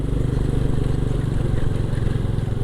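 An old Honda Karisma motorcycle rides slowly over a rough road, its engine a steady, close, loud drone with a pulsing low rumble that continues without a break.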